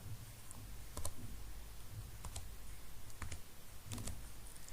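Keys tapped on a computer keyboard while entering a CAPTCHA, heard as scattered light clicks in small bursts over a steady background hum, with no talking.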